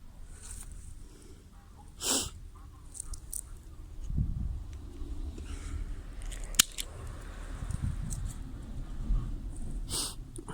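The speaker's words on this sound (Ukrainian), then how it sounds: "Так дивлюся, дає плодові бруньки, то лишаю ту гелячку, а де нема, обрізаю." Pruning shears snip fruit tree branches outdoors, producing a few sharp isolated clicks spread out over a quiet rustling background with soft breathing and movement noise, no talk.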